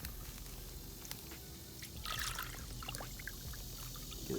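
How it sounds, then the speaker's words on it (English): Pond water being scooped into a container outdoors: faint, brief splashing and pouring, with a small burst of trickling midway against quiet background. "Get some good old pond water."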